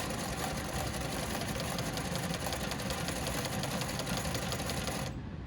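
A sewing machine stitches a seam on a shirt cuff with a fast, even mechanical chatter, loud and close, running steadily before stopping abruptly at the end.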